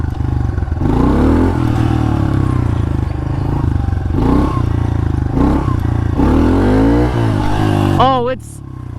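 A modified pit bike engine runs loud and close during a ride, rising and falling through repeated revs with a raspy buzzing exhaust that fades out at the very end.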